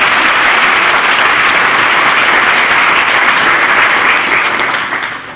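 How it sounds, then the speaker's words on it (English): Loud, dense applause fills a hall at a graduation ceremony, many hands clapping evenly for several seconds before fading near the end. "Give them a round of applause."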